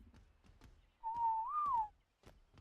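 A person whistles a single sustained note that rises slightly and then falls, clear and close, between faint knocking clicks and soft background noise.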